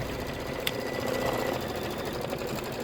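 An embroidery sewing machine stitches a popsicle quilt block in the hoop, giving a steady, fast mechanical stitching hum that runs continuously at a moderate level with one brief click.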